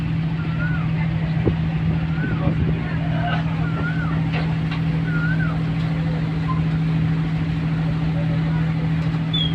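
A river launch engine drones steadily as the boat travels toward Bhola, a continuous low hum filling the whole stretch with faint birdcalls and small knocks above it.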